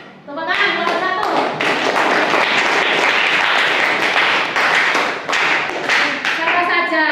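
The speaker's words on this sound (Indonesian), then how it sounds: "ayo, tepuk tangan kelompok 1" Students in a classroom clap for a group of classmates. The applause is close, loud and continuous, with voices mixed in, and stops at the very end.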